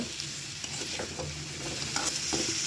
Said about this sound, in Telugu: దాని తోడు పాలకూర కూడా వేసాను